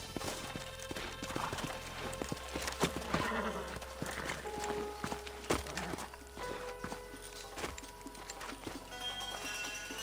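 Horse hooves in Red Dead Redemption clop steadily on hard ground in a quick walking rhythm, with game ambience and a horse's whinny mixed in.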